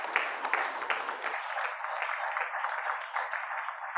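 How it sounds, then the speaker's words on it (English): Faint applause from a workshop audience honouring the event organiser, a soft, even patter of many hands clapping at a distance. "we should have a special round of applause for Mr. Kamlesh."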